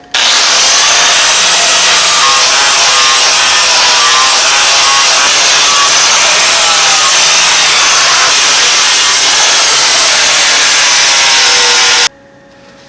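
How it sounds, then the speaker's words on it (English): A power sander with a soft pad smooths a shaved 14 bolt axle cover in a loud, constant abrasive rush that holds steady for about twelve seconds, then cuts off abruptly. "I'll swap back out to a soft pad to clean this thing up and give it its final shape"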